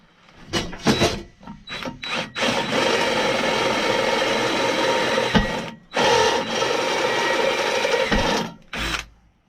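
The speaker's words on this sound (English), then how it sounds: "I'm taking my cutoff wheel and cutting between both holes" Angled cutoff wheel slicing through metal on a Chinese four-wheeler between drilled holes, a loud sustained grinding whine in several bursts separated by short pauses, close by and with no talking.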